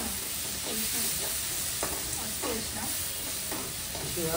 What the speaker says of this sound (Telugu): పసుపు వేసుకున్నాం. మళ్ళీ ఇంకా ఫ్రై అవుతుంది.